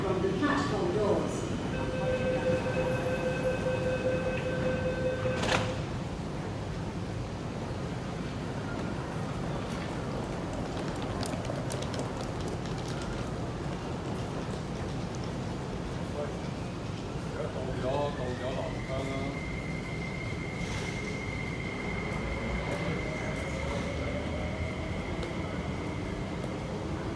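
An MTR train pulls into the Nam Cheong Station platform with a steady, low rumble. Platform announcements and tone chimes play over it, and the sound continues throughout.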